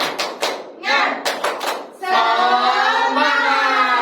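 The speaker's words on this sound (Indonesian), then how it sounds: "Oke, tepuk tangan." Schoolchildren in a classroom clap in a rhythmic group pattern of sharp claps and pauses, then break into loud chanting voices that carry on to the end, all close by.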